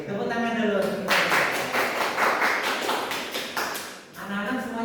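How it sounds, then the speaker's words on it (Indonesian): Schoolchildren in a primary classroom clap together in a rhythmic pattern, a run of sharp, loud, evenly spaced claps, with children's and a teacher's voices before and after. "Tepuk tangan dulu."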